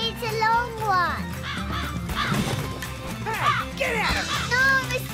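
A crow caws repeatedly in a cartoon, harsh cries coming in bursts mixed with children's voices talking over them.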